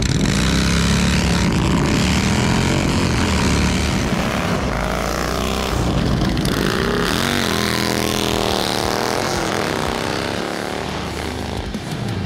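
A Harley-Davidson Road King V-twin rumbles loud and close. Its engine revs up and down in long swells, and the throaty roar stays continuous throughout.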